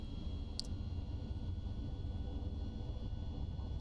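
An airliner rolls down the runway for takeoff in the X-Plane 12 flight simulator game, giving a steady low engine rumble with a faint whine throughout, unbroken by talk.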